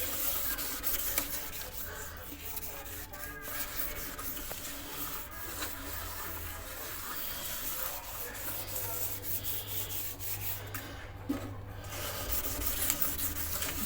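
Lemon rubbed and scrubbed over a kitchen sink basin and faucet, a steady close-up scouring and rubbing texture continuing for over ten seconds with no talking.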